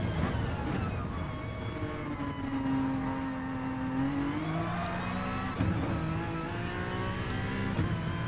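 A race car engine in a racing video game accelerates hard out of a hairpin, a loud, steady whining roar climbing in pitch as it gathers speed, then shifting gears and building again, with no talk over it.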